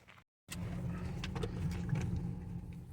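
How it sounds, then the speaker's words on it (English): A car rolls slowly through a campground, its low engine rumble steady and close after a short dropout at the start, with no one speaking. "Just driving through the campsites"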